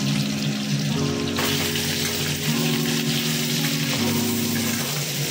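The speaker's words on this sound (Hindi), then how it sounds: "तो मैं आलू को थोड़ा फ्राई कर रही हूँ" Potatoes frying in a pan of oil left over from frying fish give a steady, dense hiss that runs unbroken throughout, with a low hum underneath and no voices.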